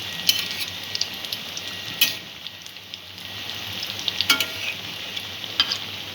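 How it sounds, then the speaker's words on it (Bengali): Noodle pakoras frying in a pan of oil with a steady, close hiss, broken by a few faint crackles and clicks of stirring. The frying sounds alone, with no talking. "এইভাবে বড়াগুলো প্রত্যেকটারই একটু হালকা ব্রাউন করে ভেজে নেব"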